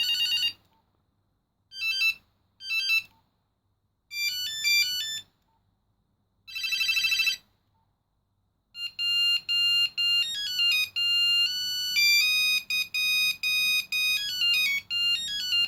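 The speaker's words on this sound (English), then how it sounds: "The synonymous classic ringtone for Nokia was this" A classic Nokia ringtone from a 1994 Nokia 2110i GSM phone plays as short bursts of bright electronic beeps separated by pauses, then a longer rapid melodic run, loud and close, with no voices.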